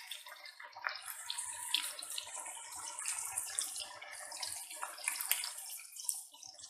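Chicken tikka pieces fry in oil in a pan, giving a faint, crackly bubbling sizzle with irregular popping, heard alone without talk.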